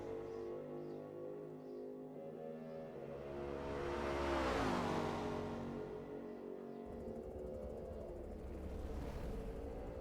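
Race cars, a BMW and a Mustang, battle in a sim racing game at the 24 Hours of Le Mans. A steady engine drone swells as one car roars close past mid-way, then fades back to a lower rev note.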